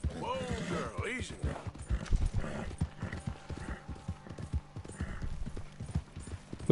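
Horse hooves clip-clop in a steady rhythm in the video game Red Dead Redemption II, close and fairly loud, with a brief whinny near the start and mechanical clatter in the background.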